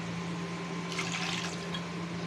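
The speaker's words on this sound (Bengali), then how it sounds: "ডালটার মধ্যে দেখো আমি আর একটু জল দিয়ে দেবো" Water is poured into a pot of sour lentil dal with lemon, a soft liquid splash and gurgle for about a second over a steady background hum.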